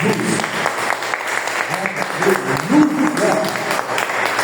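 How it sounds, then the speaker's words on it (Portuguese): A church congregation at a Thursday service claps together, a steady wash of applause with a voice speaking over it. "Eu posso ouvir uma salva de palmas para Jesus?"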